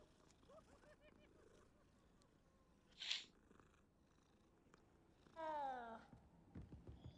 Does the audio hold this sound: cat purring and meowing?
yes